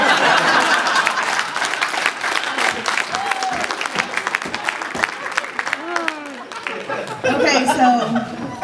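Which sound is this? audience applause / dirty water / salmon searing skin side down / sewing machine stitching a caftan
audience applause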